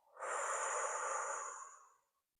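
A single slow, airy exhale during guided relaxation breathing, soft and close, rising quickly and tapering gently away over about two seconds in otherwise silent surroundings.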